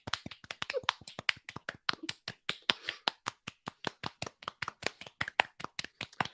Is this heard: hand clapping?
yes